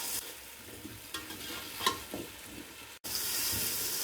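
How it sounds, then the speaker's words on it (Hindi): Cubed potatoes frying in a pan, a steady close sizzle with a few brief stirring scrapes, then an abrupt cut to louder, denser hiss. "आलू को हमने क्यूब्स में कट कर लिए। चार से 5 मिनट हम इनको भून लेंगे।"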